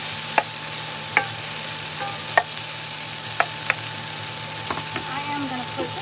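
Tofu for a vegan dish fries in a pan with a steady sizzle while a utensil stirs it, giving sharp scraping clicks every second or so, close and moderately loud.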